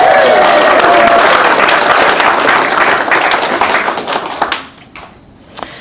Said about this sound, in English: Big cheer for Adam